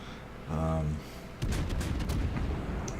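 In World of Warships, a Des Moines cruiser fires armor-piercing shells, a rapid cluster of sharp, close booms and cracks that follows a brief burst of talk.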